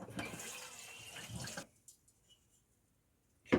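Water runs steadily into a cooking pot for pasta, a continuous splashing pour that stops abruptly after about a second and a half, leaving near silence with a faint drip or two before a brief loud noise at the end.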